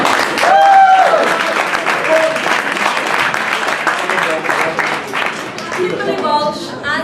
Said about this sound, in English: another round of applause for Dynamo